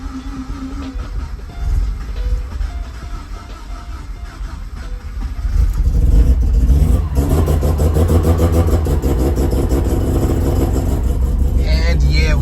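Rotary-swapped Subaru BRZ engine idling roughly, then rising into louder revs as gas is applied partway through, close and steady with a droning mechanical tone.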